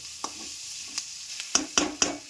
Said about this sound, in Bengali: পেঁয়াজটা একটু ভাজা ভাজা করে নেবো, পেঁয়াজটার সাথে আলুটা তো ভাজা হয়ে গেছে